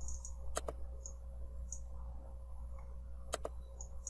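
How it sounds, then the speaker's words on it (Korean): A computer mouse gives a few sharp, quiet clicks, two quick double clicks spaced apart, over a low steady hum in a quiet room with no speech. "클릭."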